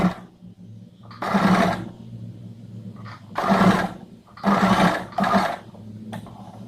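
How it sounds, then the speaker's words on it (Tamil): A sewing machine stitches a blouse neck design in several loud, close bursts of rapid whirring, with quiet pauses between the runs. "இப்போ என்ன பண்ண போகிறோன்னா மெஷினில் வச்சு ப்ராப்பராக வந்து ஒரு ஸ்டிச் வந்து பண்ணிக்கலாம்"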